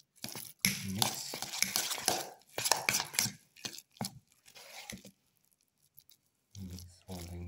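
A spoon scrapes and clatters in a bowl while mixing turmeric, spices, potato and chickpea for black pepper fritters. Irregular close scraping and knocking bursts come with short pauses, and a voice speaks faintly at times.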